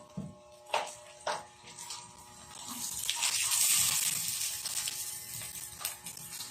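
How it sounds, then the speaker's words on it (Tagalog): Tap water runs steadily for a kare-kare peanut sauce, a soft gushing stream swelling in the middle after a few light clinks, close and alone without talk. "Tapos, lalagyan natin siya ng tubig."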